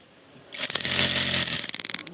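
A sewing machine stitches lace onto a scarf, running in a short, fast, rattling burst that starts, holds for about a second and stutters to a stop.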